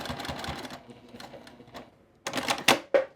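A sewing machine running a back stitch on quilt binding ends, a quick rattling burst of stitches, a short pause, then a few sharper clacks and stops close by.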